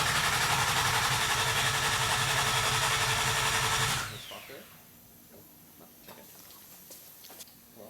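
A Nissan RB30 engine in a Datsun 240Z cranks over without firing: a loud, rapid, rhythmic starter churn for about four seconds, then stops, leaving quiet shop noise and faint clicks.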